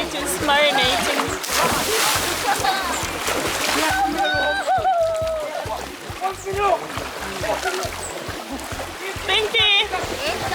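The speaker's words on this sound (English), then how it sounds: "stirring the water" River water sloshes and splashes as it is stirred by hand at Candy River in Westmoreland, Jamaica, steady and close, with people talking over it throughout.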